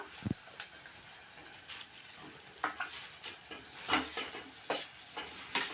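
Potatoes are added to a pan with turmeric for an aloo tomato curry and stirred, giving a soft continuous sizzle broken by scattered scraping and clinking taps of a spoon against the pan.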